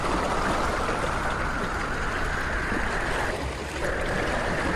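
Big river waves churn and wash in a steady, loud, broadband rush with wind blowing over the water, continuous and close with no talk.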